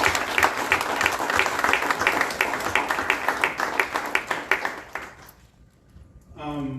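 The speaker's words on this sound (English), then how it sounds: "Giovanna, give a big round of applause." Audience at a Texas State Senate District 27 candidate forum applauds with dense, steady clapping that fades out over several seconds, followed by a brief hum before speech starts.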